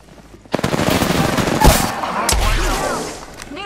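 Gunfire in Apex Legends, a loud burst of rapid automatic shots with a heavy impact in the middle, close and dense, with some game voice chatter mixed in.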